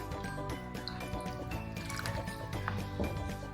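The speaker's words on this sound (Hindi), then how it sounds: "थोड़ा सा इसमें पानी भी डालूंगी मैं इसके अंदर।" Small splash of water poured onto marinated beef in a kitchen, wet sloshing and squishing sounds close up under a constant background hum, with no voices.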